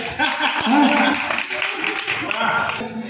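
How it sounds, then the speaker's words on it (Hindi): Audience applause at a small poetry recital held at a Hanuman temple, a broad wash of clapping swelling and fading over about three seconds, with voices and some chuckling mixed in. "ताली बजा दीजिए।"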